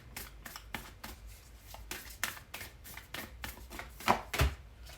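A Moonology Oracle deck of cards is shuffled by hand in a quiet room, giving a rapid series of close, crisp riffling and slapping bursts with a couple of louder thumps near the end.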